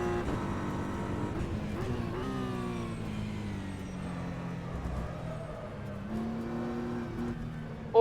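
A race car engine running in qualifying mixture mode drones loud and close, its pitch rising and falling steadily through gear changes with no voices over it.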